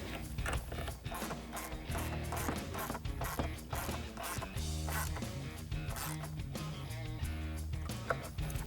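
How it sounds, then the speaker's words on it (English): An 8mm socket and ratchet drive factory airbox screws while installing a closed-box cold air intake on a 2019-2022 Chevrolet Silverado 1500, giving rapid repeated clicking ratchet strokes over background music. "And our 8mm socket and ratchet."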